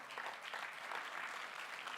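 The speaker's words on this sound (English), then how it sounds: "So another round of applause," Audience at a G7 energy side event applauding a speaker, a faint, steady wash of distant clapping throughout.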